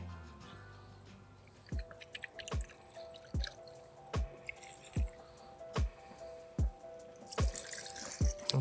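Fresh QCS paint stripper liquid is squeezed and dripped onto vintage furniture, giving a regular series of wet drips and squishy splats about once a second, close and quiet against a soft hiss.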